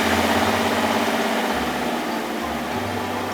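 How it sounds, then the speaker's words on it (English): A toy tractor road roller flattens asphalt, giving a steady low motor hum with a slight vibration, close and continuous, the pitch shifting in short stretches as it rolls. "The tractor flattens down the asphalt with its roller."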